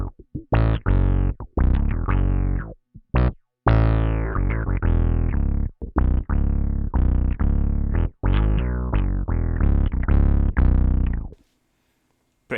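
Synth-style bass tone from a bass guitar fed through octave pedals and an envelope filter pedal: a loud, close riff of short plucked notes with sweeping, quacky filter decays, brief gaps between phrases and a quiet tail.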